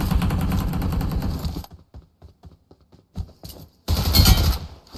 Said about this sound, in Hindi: कितना सेटिस्फाइंग फील होता ना जब टन टन की आवाज आती है, मतलब टन टन की आवाज वैसी गोलियों की